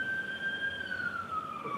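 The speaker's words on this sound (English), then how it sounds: "Hold on, wait for the ambulance" Ambulance siren wailing outside a courtroom, a steady high tone that gradually slides downward in pitch as it passes, moderately loud and heard alone without speech.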